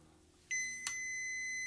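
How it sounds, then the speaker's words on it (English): A small multimeter doing in-circuit resistance testing gives a sustained continuity beep that starts abruptly and holds steady, preceded by a faint click, alone in a quiet room. "And you hear that beep?"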